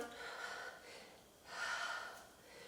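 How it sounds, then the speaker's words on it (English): Breath drawn in and let out during a beginner yoga stretch with arms raised, two soft airy swells, the second fuller, close and quiet with no talking. "Breathing in and breathing out."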